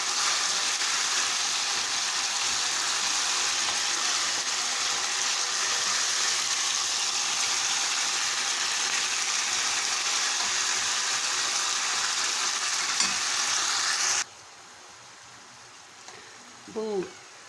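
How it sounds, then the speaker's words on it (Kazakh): Chicken gizzards frying in oil in a pan with dill stems give a steady loud broadband sizzle, which cuts off abruptly near the end, leaving quiet room sound and a brief clink. "тауықтың асқазанын жақсылап қуырып аламыз."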